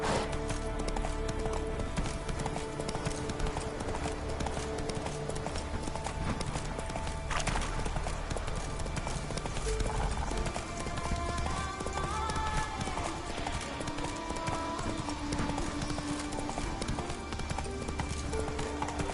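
Geralt's horse Roach gallops in The Witcher 3 with steady, rapid hoofbeats that stay close and continuous over game music and ambience, with a brief voice and grunt heard along the way.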